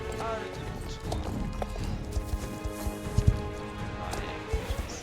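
A horse's hooves clip-clop steadily in the Star Stable video game, a continuous stream of light hoof beats under a person talking and game background sound.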